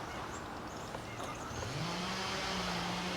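A Tamiya BBX two-wheel-drive off-road RC buggy drives under throttle, its electric motor a faint, distant whine that rises in pitch as it speeds up through a corner.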